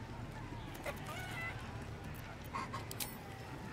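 A chicken in the Baldur's Gate 3 chicken-chasing minigame gives a few brief, faint clucks spaced apart over a quiet game background.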